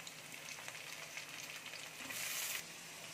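Cut potatoes fry in fish-frying oil with whole spices in a kadai, making a steady, fairly quiet hiss of sizzling that swells briefly near the end as they are stirred.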